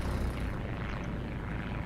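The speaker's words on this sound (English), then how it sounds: "Airplane. That's our guy." An airplane passes over the battlefield in War Thunder, set in Hürtgen Forest, as a steady low droning rumble of propeller engine noise that holds at a fairly even level for the whole stretch, with no talk.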